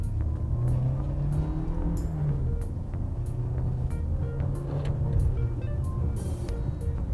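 A 2021 Changan CS75 Plus crossover accelerating in manual mode, a steady low engine drone that rises and holds under cabin road rumble, continuous and fairly close throughout.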